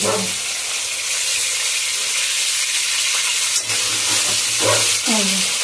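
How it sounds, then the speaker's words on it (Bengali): Fish sizzles steadily in hot oil in a home kitchen pan, a continuous close frying hiss running throughout with a few brief clinks and stirring touches near the end. "এই যে মাছ ভাজা বসিয়েছি"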